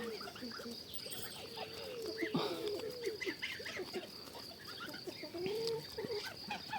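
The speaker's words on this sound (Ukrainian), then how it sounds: "Ось так мої гусінки пасуться" Domestic geese grazing outdoors in a garden, giving scattered honks and soft calls in a steady rhythm at moderate distance, with other birds chirping around them.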